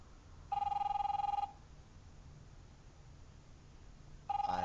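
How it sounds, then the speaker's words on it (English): An in-game telephone rings in The Wolf Among Us, episode 4, with two loud electronic bursts: one lasting about a second near the start, then a second beginning at the very end, separated by quiet background hum. "You gonna pick up the phone?"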